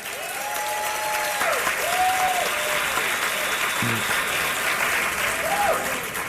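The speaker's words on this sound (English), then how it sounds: "Big round of applause." Sustained audience applause at a women's health expo, a dense steady wash of many hands clapping throughout, with a few faint whistles or voices rising above it.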